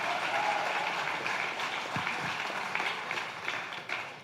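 A church congregation applauds during a sermon, a steady wash of many hands clapping at moderate loudness that thins slightly toward the end, with no voices over it.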